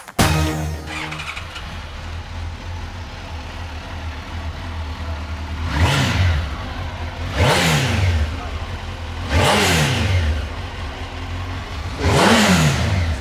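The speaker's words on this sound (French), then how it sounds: "C'est juste pour écouter les bruits de 3 motos." A motorcycle engine idles with a low rumble, then is revved four times in a row, each rev swelling loud and falling back, close by with no talk.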